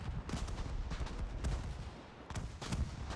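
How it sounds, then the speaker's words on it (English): Heavy anti-aircraft flak bursting around a player's Ar 196 A-3 seaplane in War Thunder, a dense, continuous barrage of booming detonations and rattling gunfire with sharper blasts near the start and end. "this flak is intense"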